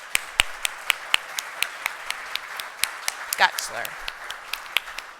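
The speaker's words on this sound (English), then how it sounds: "Can we have a round of applause for all these amazing donors?" Scattered audience applause at a conference talk about Texas art, sharp individual claps landing in a steady, fairly sparse rhythm, close and crisp, with a brief spoken word cutting in midway.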